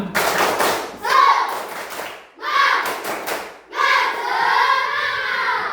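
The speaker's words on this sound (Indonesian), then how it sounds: "ice breaking kita adalah tepuk semangat sama tepuk satu" A class performs the rhythmic 'tepuk semangat' clapping ice breaker during a teaching practice session, three patterned bursts of group clapping with brief gaps between, close and lively, accompanied by chanting voices.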